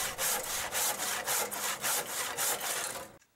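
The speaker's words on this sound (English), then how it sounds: "so I had to finish it up with a handsaw" A handsaw cuts through a wooden table leg blank in about eight steady back-and-forth strokes, a close, rhythmic rasping that stops abruptly at the end.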